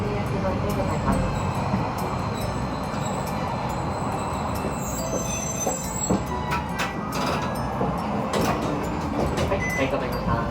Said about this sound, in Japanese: ドアが開きます。